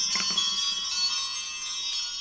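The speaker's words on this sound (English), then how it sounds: "I want to ring the bells and create some sacred space around this reading" Small ritual bells rung before a tarot reading, a few bright ringing strikes close by that sustain and shimmer, fading slowly with no talking.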